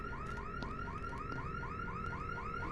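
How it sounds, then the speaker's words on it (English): A car alarm in a video game wails in a fast, regular cycle of rising electronic chirps, steady and prominent over a low background hum. "That's like the car alarm noise"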